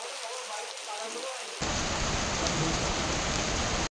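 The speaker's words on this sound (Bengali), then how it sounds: "এরপর নামলো মুষলধারে বৃষ্টি, তাই আর বিষ্ণুপুর যাওয়া আমাদের হলো না।" Heavy monsoon downpour in the Joypur forest, a dense steady hiss of rain that swells abruptly louder partway through and stays constant, with no other distinct sounds.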